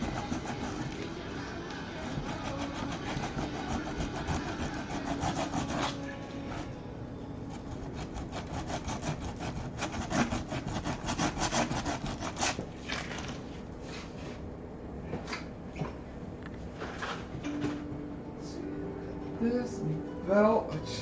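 A belt sander working on a handmade craft model, heard as an ongoing scratchy rasping and rubbing with uneven strokes and pauses, close by while a person talks over it.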